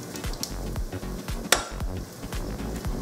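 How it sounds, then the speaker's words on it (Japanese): Vegetables and the green parts of spring onion sizzle steadily in plenty of oil over low heat, with rhythmic stirring scrapes and a sharp utensil clink against the pan. "弱火でじっくり炒めて油を切らすようにします。"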